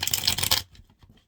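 A deck of cards is shuffled in a brisk, loud burst of riffling and rustling for over half a second, then a few faint soft taps and shuffles follow as it settles, with no voices.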